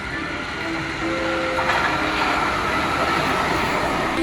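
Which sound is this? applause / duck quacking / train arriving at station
train arriving at station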